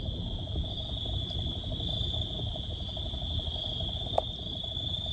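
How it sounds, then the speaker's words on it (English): Crickets chirp in a continuous high, steady trill, fairly quiet, with a low background hum and one brief click. "I hear the crickets."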